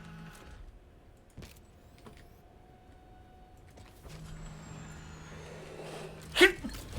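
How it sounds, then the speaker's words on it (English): A single sharp sneeze bursts out near the end, loud against a quiet background of low hum and faint electronic game sounds. "Sorry, that's a sneeze."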